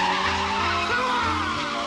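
A Ferrari driven in the film Scent of a Woman, its tires screeching in a long, loud, continuous skid over the engine's drone.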